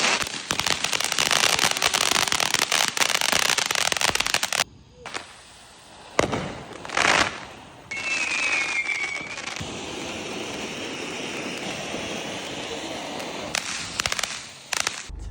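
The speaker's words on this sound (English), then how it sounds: "But family's out watching fireworks." Fourth of July fireworks burst in dense, continuous crackling volleys, with loud booms and brief lulls between barrages, heard outdoors at close range.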